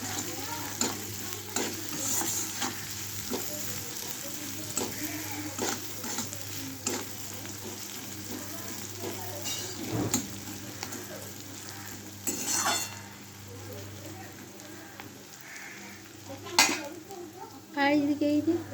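Onion and bay leaf tempering sizzle in hot oil in a pan, with a steady frying hiss broken by repeated scrapes and clinks of a spatula stirring against the metal, close and moderately loud.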